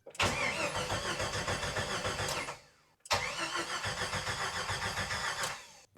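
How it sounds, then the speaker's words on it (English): A 1991 Jeep Wrangler YJ engine cranks without catching. There are two long, rhythmic starter-motor bursts of a few seconds each, separated by a short pause, loud and close with no talking. "Crank no start diagnostic video coming soon."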